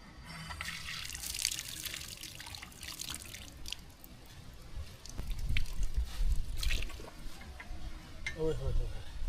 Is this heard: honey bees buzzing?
no